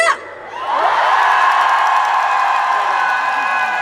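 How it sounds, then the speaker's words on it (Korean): Fans at an opening concert of the Chungju Dive Festival let out a loud, sustained shout and scream that rises sharply after a brief lull and holds strong to the end, with a faint voice at the start. "제 기준으로 좌측에 계신 팬 여러분들 함성 소리 질러!"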